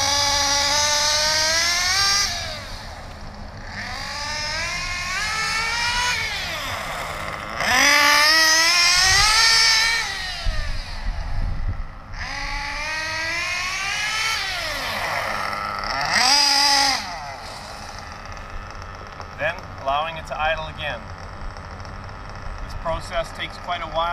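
A small nitro RC engine during a Tessmann break-in on its seventh tank, revving up and down in repeated rising whines, loud and close, with short pauses between pulls.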